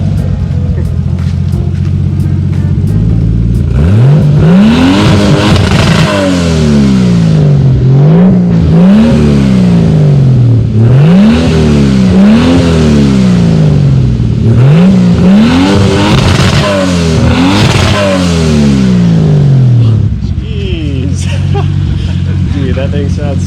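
Datsun 240Z fitted with an RB engine revs repeatedly at close range, a series of sharp rising-and-falling blips with a rough idle between them; people talk briefly near the start and end.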